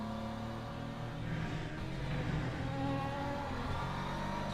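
An LMP prototype race car passes in a racing video game, its engine a low, layered drone that swells gently midway at moderate, steady level with no voices.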